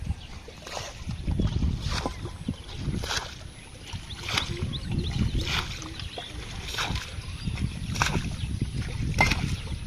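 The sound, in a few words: boat moving on water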